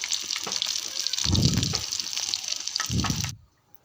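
Pumpkin flower fritters frying in hot oil, a steady crackling sizzle with two heavier low bursts as pieces are stirred or added, cutting off abruptly near the end.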